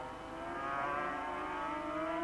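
Racing sidecar outfits at Donington Park in April 1984 scream past in a sustained, loud, high-revving engine wail with steady harmonic tones, close and continuous with no talk.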